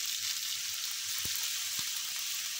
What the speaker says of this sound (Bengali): বাদাম আর পোস্তদানা এগুলো বেটে নিয়েছি, ওগুলো দিয়ে দিলাম তেলের মধ্যে। এগুলো ভালো করে এখন ভেজে নেব।